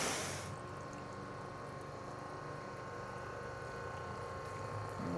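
Water sheets steadily across a coated car panel during a maintenance wash, a continuous close rushing and splashing flow that runs unbroken for about five seconds without talk.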